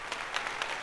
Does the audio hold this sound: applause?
yes